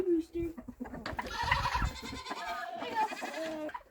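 Goats bleat loudly and repeatedly nearby, overlapping calls with a wavering, nasal quality, while a person speaks briefly at the start.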